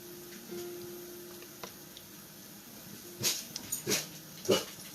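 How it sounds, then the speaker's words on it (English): A few short, sharp dog barks and yips sound near the end, spaced apart over a quiet indoor background. "I apologize about the puppy dogs."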